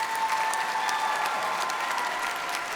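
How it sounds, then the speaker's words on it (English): University commencement audience applauding a speaker, a continuous, even roar of many hands clapping throughout, moderately loud and filling the hall. "Please, another round of applause for Jessica."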